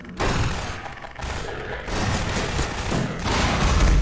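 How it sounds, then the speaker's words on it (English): In Half-Life 2, the SMG's alternate-fire grenade launcher thumps out a round amid loud, dense combat noise, with booming blasts and rattling gunfire crowding one another, no pauses and no voices. "here's where I'm going to use the SMG's alt fire again"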